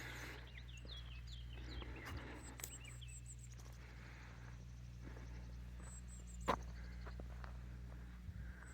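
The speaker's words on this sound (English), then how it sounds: "all I can hear is birds" Birds sing and chirp on a spring morning in rural Barga, faint repeated trills and calls over a quiet background with a low steady hum and an occasional soft knock.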